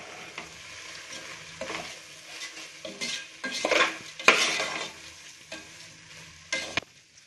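Turmeric, chilli, garam masala and coriander powders with salt being stirred into frying vegetable biryani masala, a soft sizzle under repeated spoon scrapes and clinks against the pot.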